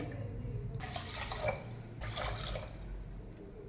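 Water is poured from a cup onto washed rice in a pot in two separate splashing pours, soft and close, with quiet background between them.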